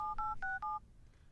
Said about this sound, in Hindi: एक काम करते हैं, नितिन को फोन लगाते हैं.